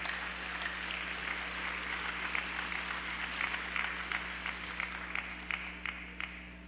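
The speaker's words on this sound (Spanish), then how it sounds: "con fuertes aplausos." Audience applause at a conference hall for a theology and pastoral care event, a steady wash of clapping sustained for several seconds under a low electrical hum.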